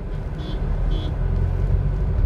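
A manual car easing to a slower pace on a straight road during a driving lesson, its engine and road rumble steady and close throughout, with no talk.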